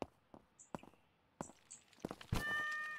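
A cat in the game Computer Service Shop lets out one clear meow near the end, preceded by scattered soft taps and footsteps in a quiet room.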